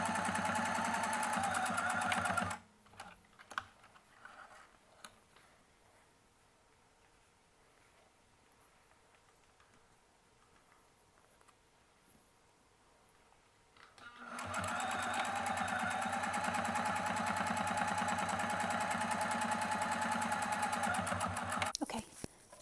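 Sewing machine running steadily while stitching a seam on a homemade face mask with a nose bridge, in two loud continuous bursts separated by a quiet pause, with no talking.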